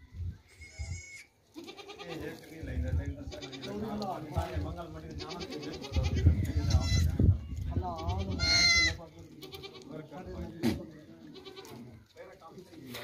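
Two nanny goats with their four kids bleat repeatedly at close range, high wavering calls overlapping one another while people talk throughout.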